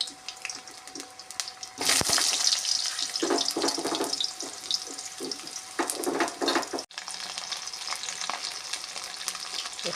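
Potato pieces dropped into hot oil with bay leaf and cumin, a sudden loud sizzle erupting and then settling into a continuous crackling fry with occasional stirring clatter.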